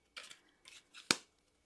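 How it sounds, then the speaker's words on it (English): A deck of cards being shuffled gives a few quick papery riffling bursts, ending in one sharp snap as the cards settle. "Shuffle them up a little bit."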